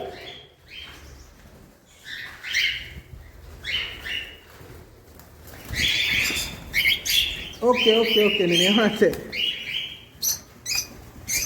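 Pet cockatiels and lovebirds chirping and calling in short bright bursts at close range, with a louder run of squawks partway through and a person talking in between.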